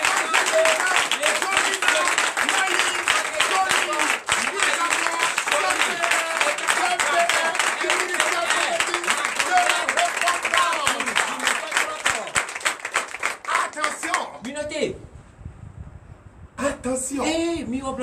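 Audience applause at a church prayer and deliverance night, a loud, steady mass of clapping lasting around fourteen seconds before it thins out, with voices speaking over the quieter tail.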